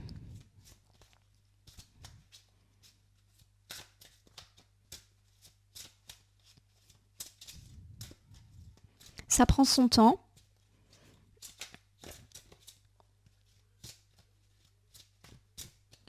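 A deck of tarot cards being shuffled by hand, heard as scattered soft riffles and taps with one louder burst of rapid card shuffling midway, while someone speaks briefly.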